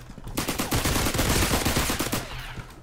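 Rapid bursts of suppressed Tommy gun fire in Roblox Criminality, a fast automatic rattle of dense shots that runs for roughly two seconds, loud and close, with no talking.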